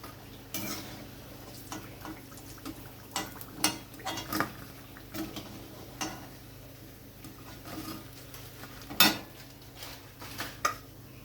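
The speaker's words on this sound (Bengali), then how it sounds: "বাকি পনিরগুলো আমি সুন্দর করে ভেজে নিয়েছি। এবার তুলে নিচ্ছি।" Fried paneer pakoras being lifted out of a pan of oil: scattered metal clinks and scrapes of a utensil against the pan over a faint, steady background, with no talking.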